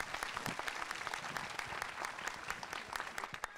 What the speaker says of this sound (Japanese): 監督キャストの二人をどうぞ大きな拍手でお見送りください